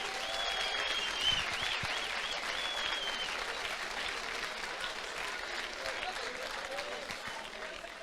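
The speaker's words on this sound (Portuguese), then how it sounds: "Um aplauso para as mulheres." Church congregation applauding the women, a steady broadband patter of many hands clapping at moderate level that slowly fades across the clip, with no speech over it.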